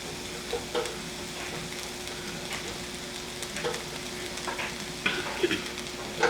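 Shrimp stew ingredients sautéing in a pan, a moderate sizzle with intermittent stirring clatters and scrapes, close and without talk.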